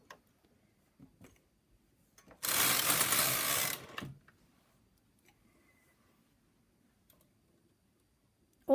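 Knitting machine carriage drawn across the needle bed while knitting a punch-card fair isle pattern, a single dense mechanical rasp of about a second and a half, close and loud in an otherwise quiet room with faint clicks around it.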